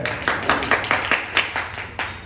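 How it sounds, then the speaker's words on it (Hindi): Students in a math classroom clap in a short, uneven burst of roughly eight sharp claps, close and fairly loud, with no talking over them. "ये ताली बजा लो इसके लिए"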